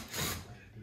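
A countersink bit flares a drilled hole in a beehive ornament, giving a short, close grinding burst that peaks and fades within a second.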